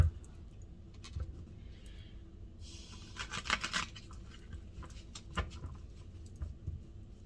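A deck of tarot cards shuffled by hand, giving soft riffling and flicking bursts with a denser flurry in the middle, quiet and close with no talking.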